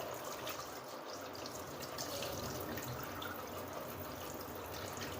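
Continuous gentle trickle and splash of water being poured off soaked semolina, steady and close, with no talking.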